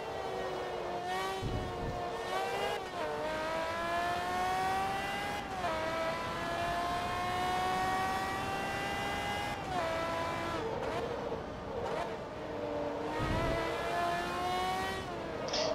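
Race cars in Forza Motorsport 2, engines whining and climbing through gear shifts with drops between, one car revving close and steady over a racing mix, no talk.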